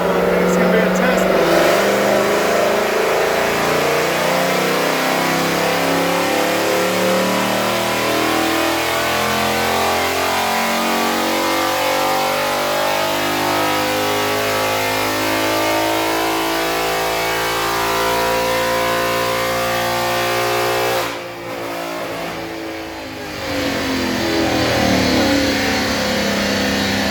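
A 2019 Ford Mustang GT PP1, naturally aspirated, revs hard on a dyno pull to about 7,200 RPM, a loud sustained rising engine roar that dips briefly near the end before surging again.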